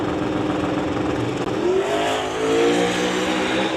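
Outlaw 275 drag race car making a full-throttle run at a drag strip, a loud, steady engine roar with rising pitch as it accelerates down the track, heard from nearby without talk.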